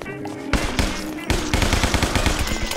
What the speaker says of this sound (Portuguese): Vamos ver o que essa metralhadora faz.